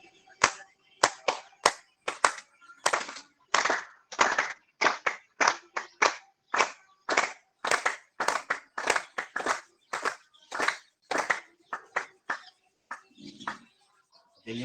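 Hands clap in a steady series of roughly twenty-five sharp, close claps during a yoga session, evenly paced and loud with no talk over them.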